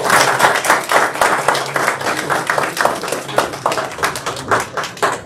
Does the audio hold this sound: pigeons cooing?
no